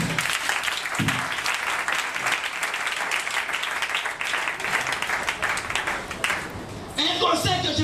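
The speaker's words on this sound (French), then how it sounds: "Acclame très fort le Seigneur." Church congregation applauding loudly, dense sustained clapping from a crowd that fills the whole stretch and swells slightly toward the end, with voices mixed in.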